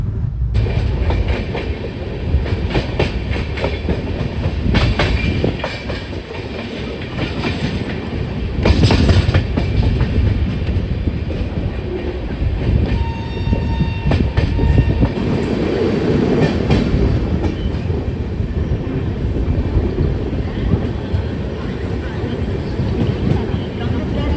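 Pune–Ajni AC Express train running on rails, heard from inside a 3A AC coach: a loud continuous rumble with rhythmic clickety-clack and occasional rattles, a voice talking faintly over it.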